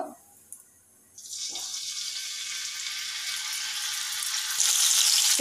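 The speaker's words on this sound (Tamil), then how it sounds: "பேன் நல்லா சூடாயிடுச்சு அதில் ரெண்டு டேபிள் ஸ்பூன் அளவுக்கு நான் எண்ணெய் விட்டுக்கிறேன் இப்போது இதில் வச்சிடலாம்" Chicken tikka pieces being laid into a hot pan with a little oil, starting with a short quiet gap and then a steady broadband sizzle that builds and grows louder toward the end, with no talking.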